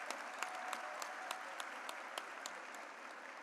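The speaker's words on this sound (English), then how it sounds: "That deserves a pause and a applause right there." Steady applause from an audience at a high school graduation ceremony, heard from a distance and faint overall, with a few louder individual claps popping out at a regular pace.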